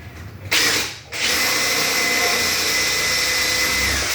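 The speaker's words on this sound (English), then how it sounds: "I'm gonna kind of hold it in here with my hand and my face, and just get one hole drilled" Power drill boring a hole in wood while building a bench: a brief whir, a short pause, then a steady loud high-pitched whine that runs continuously up close.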